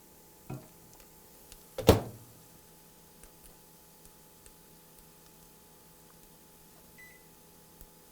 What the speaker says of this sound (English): You microwave it at normal heat for about 1 minute and 15 seconds, 1 minute and 30 seconds, depending on your microwave.